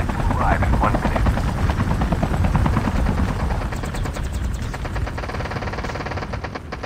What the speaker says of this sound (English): Stay on this chopper.